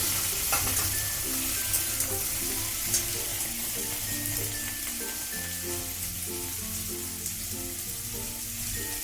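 Prawns frying in hot oil make a loud, dense, steady sizzle like rain, with occasional small pops over the whole stretch.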